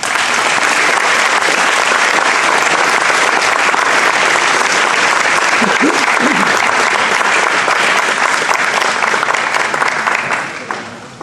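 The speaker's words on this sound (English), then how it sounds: "One more round of applause." Loud, sustained applause from an audience at a junior and senior sports awards ceremony, a dense continuous wash of clapping that fades out near the end.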